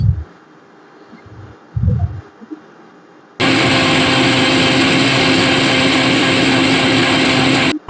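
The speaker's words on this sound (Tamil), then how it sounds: "நான் இதை பெரிய மிக்சி ஜார்ல தான் போட்டிருக்கேன். இதை போட்டுட்டு நல்லா நைஸா அரைச்சி எடுத்துக்கணும்" A large mixer grinder jar grinds ingredients for a homemade skin cream, running as a loud, steady electric whir from about the middle of the clip to the end, after a few soft knocks and quiet handling.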